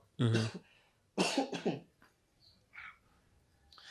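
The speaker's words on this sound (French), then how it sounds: "Tu vas m'excuser, j'ai la toux." A few short, harsh coughs close up, separated by pauses, followed by quieter throat noises and faint background sounds.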